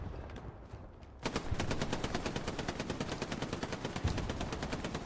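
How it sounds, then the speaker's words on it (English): Rapid machine-gun fire rattles in a steady, evenly spaced stream on the Omaha Beach map of Hell Let Loose, starting abruptly after a quieter opening and holding loud and close to the end. "I hear a lot of shooting over here."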